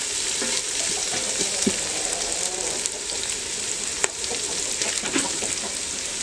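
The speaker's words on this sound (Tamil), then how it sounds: "இந்த வெங்காயம் நல்லா பொன்னிறமாக வதங்கணும்" Onions sauté in hot oil until golden for homemade chicken dum biryani, giving a loud continuous sizzle with occasional spatula scrapes and clicks close by.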